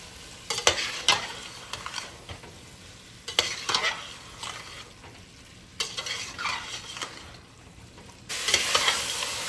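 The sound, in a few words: chicken frying and stirring in masala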